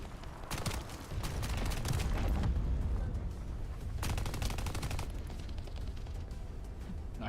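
Rapid video game gunfire, dense bursts of shots crackling over a continuous rumble, with a couple of separate volleys and a quieter stretch between them.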